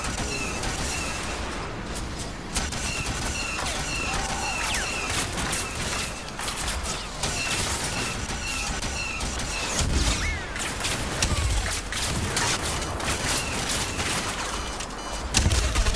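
Blaster fire rattles steadily through a Star Wars Battlefront Walker Assault battle, dense and continuous, with overlapping shots and loud battlefield noise throughout.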